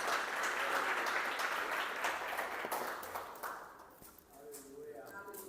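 A church congregation applauds in a dense, steady wash of clapping that gradually fades toward the end, heard from a distance in a large room.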